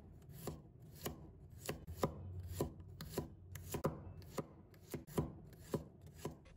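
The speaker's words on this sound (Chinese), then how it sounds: "准备一把大蒜，把它切成厚片了。" A knife slices a handful of garlic cloves into thick pieces on a board, each cut landing as a crisp, evenly paced chop, about twelve in steady rhythm, close and clear with no talking.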